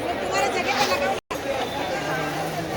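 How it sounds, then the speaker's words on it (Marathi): Busy babble of many shoppers in Mumbai's crowded Dadar market ahead of Ganpati, steady close-range crowd noise with a brief dropout partway through. "म्हणजे चालायला जागा नाही एवढी गर्दी आहे"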